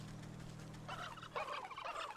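Turkeys in the video game Wytchwood gobble in two or three quick, rapid bursts over a low steady hum, fairly faint and with no talk.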